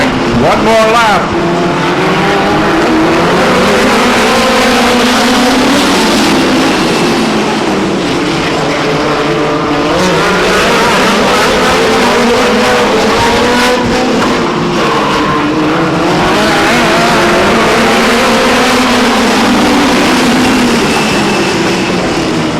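Race cars at Stockton 99 Speedway roar past in waves, their engine notes rising and falling as they lap the track, loud and continuous under a race announcer's talk.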